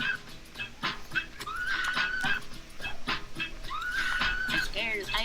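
Several dogs whimper and yip in high, rising whines over nearby scuffling, while someone talks over them in a quiet setting.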